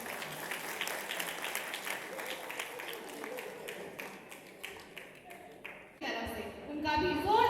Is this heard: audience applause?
yes